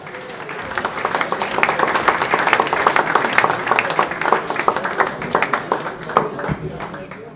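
An audience at a harmonica masters concert claps and applauds steadily and loudly for a harmonica player, with the dense clapping swelling and holding for several seconds while voices are heard through it.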